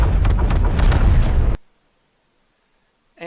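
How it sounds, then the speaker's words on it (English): A starship's core exploding, a loud roaring blast with crackling bursts that cuts off abruptly into silence, then a brief swelling tone at the end. "Raymond, if these readings are right, Hawking's core is exploding"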